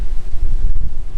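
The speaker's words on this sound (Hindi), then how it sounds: "हवा चल रही है अच्छी।" Wind blowing outdoors, buffeting the microphone with loud low rumbling gusts that rise and dip over a short stretch, with no talk.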